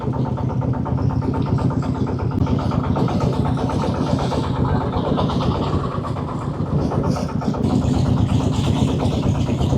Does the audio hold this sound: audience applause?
no